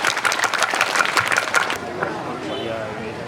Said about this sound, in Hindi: जोरदार तालियों से स्वागत करिए प्रदेश अध्यक्ष अली मंसूरी साहब का